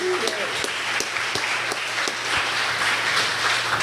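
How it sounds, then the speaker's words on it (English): Sustained applause from an event audience fills the whole stretch, a dense wash of many hands clapping at steady loudness with a few sharper individual claps standing out. "Can we just get a round of applause for the folks that silently work in the background and make this something special?"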